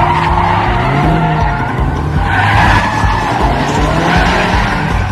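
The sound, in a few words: sports car racing on highway in chase, tires skidding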